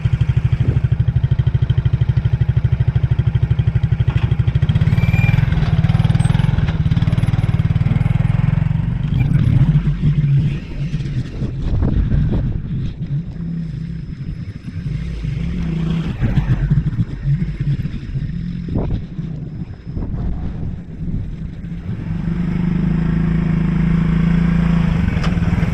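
A Suzuki King Quad 300 ATV fitted with its original Mikuni carburetor runs steadily at a low idle throughout, with some clattering and rumble midway before the steady engine drone returns.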